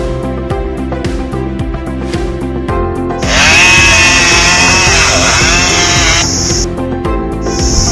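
A chainsaw sound played back as part of a forest protection warning system demo, a loud steady high-pitched motor whine that starts a few seconds in over background music and holds, dropping briefly near the end.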